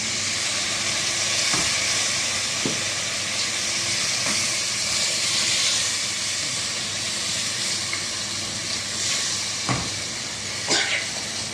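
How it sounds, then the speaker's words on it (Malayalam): Half a glass of water goes into a hot pan of sautéed masala for a chicken sausage fry. It throws up a loud, continuous close steam hiss with occasional sharp crackles throughout. "ഇതിൻ്റെ കൂടെ നമുക്ക് ഒരു അര ഗ്ലാസ് വെള്ളം ഒഴിച്ചു കൊടുക്കാം."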